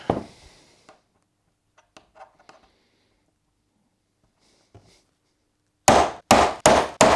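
A metal punch is struck with a hammer to mark a steel bracket for DRZ400 auxiliary lights, four sharp ringing clangs in quick succession near the end after scattered faint handling knocks and a quiet stretch.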